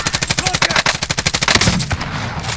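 Automatic gunfire in Call of Duty Warzone, rapid evenly spaced bursts that hammer loudly for about two seconds before breaking into a rougher, denser volley at the end.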